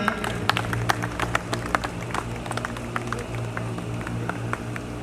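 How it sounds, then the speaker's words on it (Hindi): Students applaud to welcome a guest at a Hindi-speaking ceremony, producing dense, continuous clapping with distinct sharp individual claps over a steady low hum. "तालियों की गड़गड़ाहट से श्री का अभिनंदन करें, स्वागत करें।"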